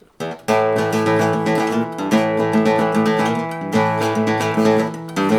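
A guitar strums dense, ringing chords in a flamenco style, played with poor posture, loud and close, with strong rhythmic accents and no voices.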